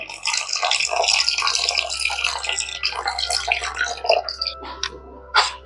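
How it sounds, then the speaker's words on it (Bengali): Water poured into a large bowl of sifted semolina, a steady splashing, trickling flow that runs loud and close for several seconds with a few final drips and spatters. "এবার দিয়ে দেব জল।"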